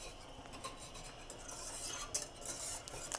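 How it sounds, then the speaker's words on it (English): Cheese sauce for baked mac and cheese being stirred in a pot, a faint, continuous scraping of a utensil along the pot with occasional soft clinks. "I prefer to keep stirring it so I don't get that stuck to the bottom flour flavor"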